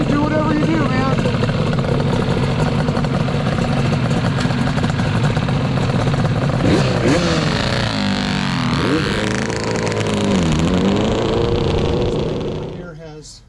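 A Yamaha RD400 Daytona Special two-stroke with Daytona head, VM carbs and Millennium pipes rides past, its engine rising and falling through revs, close and loud, then fading away at the end.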